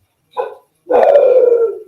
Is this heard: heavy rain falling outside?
no